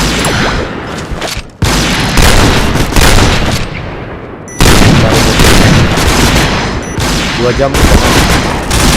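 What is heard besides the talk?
gunfire in a video game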